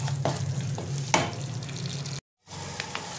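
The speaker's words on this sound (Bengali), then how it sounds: "এবার এটা আমি একটুখানি হালকা কষে নেব।" Spices with salt sizzling and frying in hot oil in a pan for cauliflower rezala, steady close sizzle with a couple of sharp stirring scrapes and a brief drop to silence.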